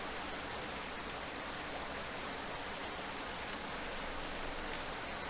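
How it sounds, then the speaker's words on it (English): Steady rain in the video game Rainswept: an even, dense hiss of downpour at moderate level that holds unbroken throughout, with no voices. "And to top it off, this rain, out of nowhere."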